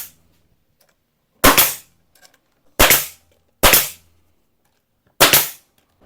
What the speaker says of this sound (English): go ahead and staple a piece of 1/8 of an inch board to the bottom side of my plywood